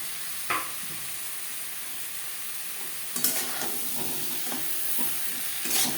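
Onion and tomato masala stirred in a pan for a low-oil fish and potato curry, a soft continuous sizzle broken by a few sharp spatula scrapes and clacks.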